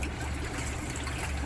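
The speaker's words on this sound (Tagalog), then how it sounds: "So nilublob ko yung dulo ng hose dito sa tubig" Freon gas released from a hose end submerged in water bubbles and gurgles in a steady, continuous hiss-like trickle, close and fairly loud.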